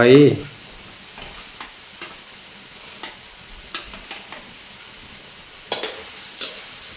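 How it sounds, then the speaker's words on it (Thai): Meatballs dropped into a hot pan for a quick stir-fry, with a loud burst of sizzling at the start that settles into a steady fry, broken by sharp clicks and scrapes as they are stirred. "ใส่ลูกชิ้นลงไป"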